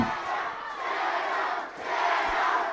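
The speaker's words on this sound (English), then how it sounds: "And the crowd gets behind their fighter." Crowd at an MMA fight roaring and cheering in a sustained, swelling wash of noise that briefly dips and surges again, filling the arena with no clear single voice.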